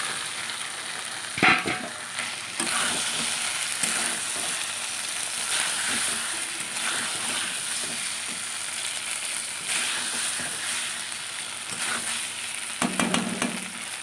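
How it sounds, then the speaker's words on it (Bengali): Pre-fried fish added to cooked spice paste in a pan sizzles steadily and fairly loudly, with intermittent stirring scrapes and a few clinks through the sizzle. "এবার মাছগুলি দিয়ে দেবো, ভেজে রাখা মাছগুলি"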